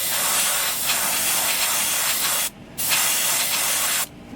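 An airbrush sprays yellow paint onto a fishing lure in a steady close hiss that cuts off briefly twice before resuming.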